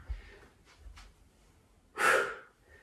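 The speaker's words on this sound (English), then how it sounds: "Nice noisy exhales" A strong, noisy exhale during a yoga HIIT exercise, one loud breath following a few fainter breathy puffs, close and alone.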